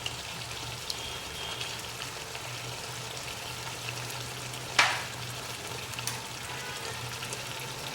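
Mutton masala sizzling and frying in a pan after curd is added, a faint steady crackle with a sharp clink or splash partway through and a low hum underneath.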